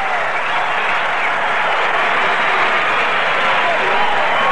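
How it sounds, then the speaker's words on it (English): A large baseball stadium crowd applauds loudly and continuously, a dense sustained wash of clapping as a batter comes up to the plate. "Morrison gets a big round of applause as he comes up."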